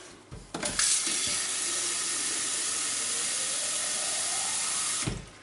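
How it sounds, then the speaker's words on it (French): A tap runs steadily as water fills a watertight container for tomato seedlings, a loud, continuous rushing gush that starts with a splash and cuts off at the end, with no talking. "je vais remplir d'eau"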